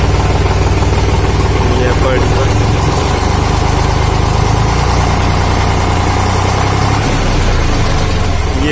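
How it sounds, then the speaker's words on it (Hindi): An Eicher 368 tractor engine idles loudly and steadily up close, a constant low rumbling chug with no change in pace. "ये ट्रैक्टर का आवाज़ आप सुन सकते हैं।"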